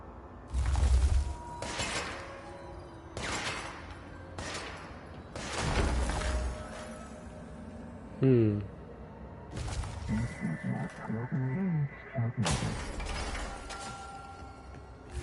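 Rocks being shattered in Control, a series of loud crashing breaks and crumbling impacts spaced irregularly, with ratcheting mechanical clicks and rumbling debris between them.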